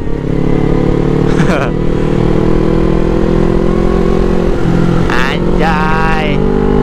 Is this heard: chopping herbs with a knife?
no